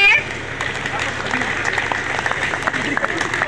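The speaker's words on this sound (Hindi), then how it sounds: "जोरदार तालियां बच्चों के लिए।" An audience claps for children called up onstage at a school seminar on communal harmony, a sustained patter of applause with a voice speaking over it.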